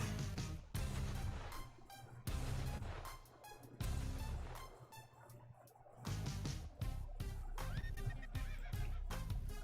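A burning horse in a video game lets out whinnying neighs amid dense, continuous game sounds and music, with several loud bursts across the stretch.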